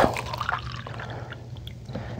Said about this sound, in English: So I'm going to pour some in this cup.